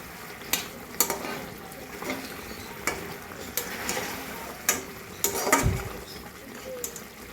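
Rohu fish in mustard and poppy seed sauce with tomato sauce being stirred in a pan, soft sizzling under repeated scraping and clinking of a utensil against the pan, with one low thump near the end.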